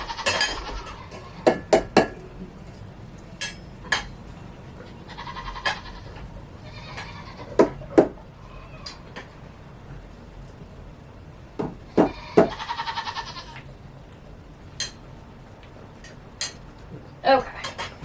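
Goats bleat now and then during hand milking, with two longer bleats standing out, mixed with frequent clinks and clatters of metal pails and utensils nearby, and a person talking at times.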